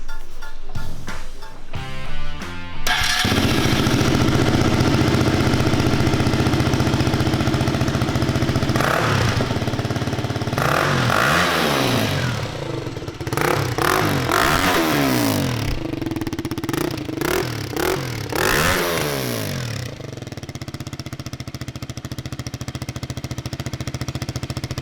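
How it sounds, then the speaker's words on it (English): A motorcycle with an Autolog Design aftermarket exhaust idles with a rough, rattling exhaust note, then revs up and down several times in loud bursts, close by. "can you please upload a video bit of the exhaust system? Sounds crazy already."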